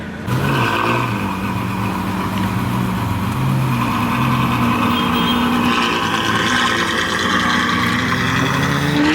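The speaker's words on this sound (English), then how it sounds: "Orange SVJR right here heading out with the white Aventador with ATX Exotics." A Lamborghini Aventador SVJ and a Ferrari F12 pull away from a car meet, their engines rumbling loudly and close in a continuous rising drone with shifting revs and no talk.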